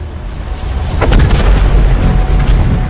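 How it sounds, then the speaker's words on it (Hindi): A huge, deep boom from an asteroid impact rolls out as a loud, sustained low rumble, swelling after the first second and holding heavy and thunderous to the end. "इस विस्फोट से जन्मी झटके की लहर 550 किलोमीटर प्रति सेकंड की रफ्तार से आगे बढ़ी।"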